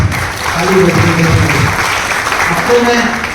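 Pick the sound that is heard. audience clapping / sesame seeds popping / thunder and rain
audience clapping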